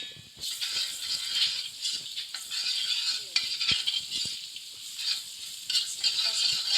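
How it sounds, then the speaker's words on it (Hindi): Ginger garlic paste sizzles and fries in a pan while biryani is being cooked, a steady crackling hiss broken by small clinks and scraping stirs of a utensil against the pan. "इसमें डालेंगे अदरक लहसुन पेस्ट"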